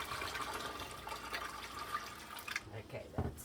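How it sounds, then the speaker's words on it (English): Water spills and splashes in a home kitchen during chowder canning, a close, uneven wet splatter with a few louder bursts toward the end while people talk nearby. "I'm spilling water everywhere."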